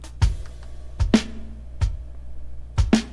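Sparse drum hits, kick and snare, heard through a soloed room reverb send, ringing out with a roomy, reverberant tail between them; about five hits over a few seconds, no other instruments.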